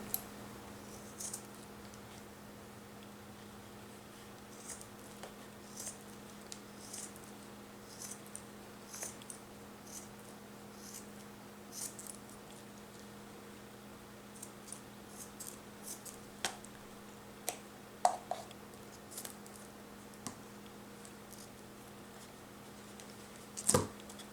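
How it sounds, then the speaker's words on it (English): Scissors snip around the bottom of a fuzzy paper cone for a Christmas tree ornament, a scattered series of quiet, close clicks and crisp cuts spread irregularly over a faint steady hum, with no voices. "take your scissors and cut along the bottom of your cone"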